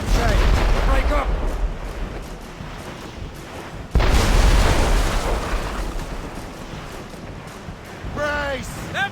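Ship cannon fire in the video game Assassin's Creed Rogue: a loud, dense roar of broadside blasts and rumbling booms, with one sharp heavy impact midway, under shouted crew voices.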